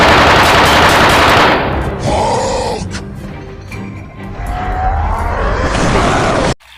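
Rapid bursts of toy pistol gunfire with electronic zapping tones, loud and close, pausing briefly then resuming before cutting off abruptly.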